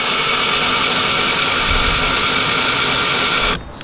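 A power drill drives a screw into a plastic pad eye on a Lifetime Teton Angler kayak, a loud steady whirring motor running almost four seconds before cutting off abruptly near the end.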